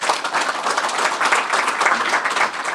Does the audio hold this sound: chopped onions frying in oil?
no